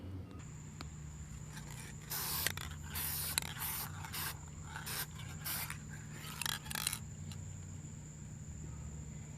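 Bar stools being spray painted: several short hissing bursts of aerosol spray over a low background hum and a faint steady whine, quiet and fairly close.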